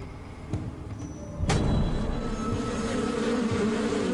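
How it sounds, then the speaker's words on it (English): Bees buzz close around a head, a dense droning hum that swells sharply partway through and stays loud and continuous, with no talking. "The bees stay around the head."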